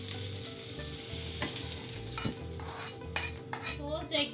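An onion mixture sautéing in a pan, stirred repeatedly: a continuous soft sizzle runs under a steady series of spoon scrapes and clinks against the metal, close up, with a faint low hum behind and no talking.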